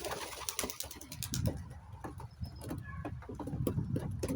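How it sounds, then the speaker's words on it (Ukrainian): Pigeons kept for sale cooing up close, soft repeated coos mixed with sharp flutters, taps and scuffles of birds moving about, no talking. "Це моя голубка"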